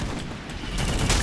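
Gunfire in the plastic toy-soldier shooter game Plastic Warfare, a dense continuous barrage of shots and booms with a heavier burst toward the end, loud throughout.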